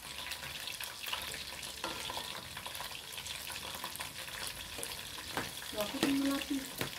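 Jemblem, a fried cassava snack, sizzles in a pan of hot oil, a steady close crackle with occasional stirring clinks and a brief voice near the end.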